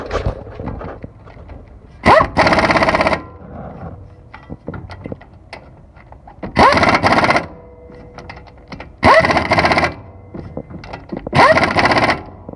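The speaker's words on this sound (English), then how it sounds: "I'm going to grab my impact gun" Pneumatic impact gun driving a bolt during drivetrain work in an auto shop, four loud separate rattling bursts about a second each with quiet gaps between them.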